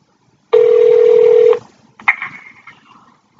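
A telephone keypad gives one steady dialing tone of about a second. After a brief pause, a shorter, fainter electronic tone follows. Both are loud and close, with no talking.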